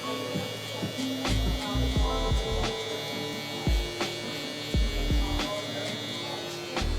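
Electric hair clippers fitted with a 3 guard, lever open, hum steadily while cutting curly hair during a taper haircut, the drone continuing under soft handling noises with a few brief knocks.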